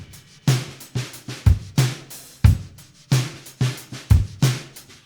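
A full drum kit plays a relaxed groove, punchy kick and snare hits landing regularly under a soft swishing layer of brushes.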